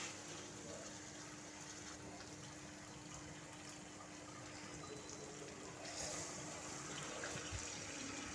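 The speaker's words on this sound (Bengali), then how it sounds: "এখন আমি ঝোল অ্যাড করব।" Broth pours into a simmering prawn and pumpkin curry, a faint, continuous watery rush that swells slightly toward the end.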